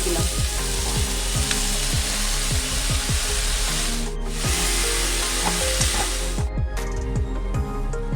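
Chickpea greens frying in a pan with eggplant make a loud, steady sizzle, broken by repeated scraping stirs of a spatula throughout.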